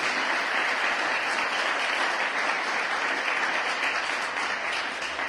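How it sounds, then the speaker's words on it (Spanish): A church congregation claps loudly and continuously in praise, a thick, unbroken wash of many hands filling the sanctuary from start to finish. "Denle un aplauso a Cristo fuerte por eso."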